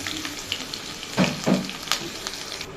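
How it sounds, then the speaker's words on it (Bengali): Onions hit hot oil in a pan, giving a close, steady frying sizzle with a couple of louder bursts as they are stirred in; brief and without talk. "আমি পেঁয়াজ দিয়ে দিচ্ছি"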